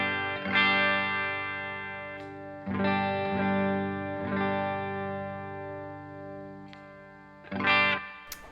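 A clean electric guitar tone through a Valeton Comprince vintage compressor pedal into a Blackstar HT20R amp with light spring reverb, played as a few sustained strummed chords that ring out evenly, close and alone.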